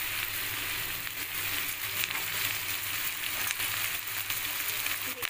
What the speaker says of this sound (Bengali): যেগুলো পেঁয়াজের সাথে হালকা করে একটু ফ্রাই করতে হবে